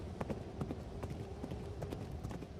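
Horse hooves clip-clop at a walking pace during a ride through snow-filled hills, a steady run of soft, muffled knocks over a dense, noisy background.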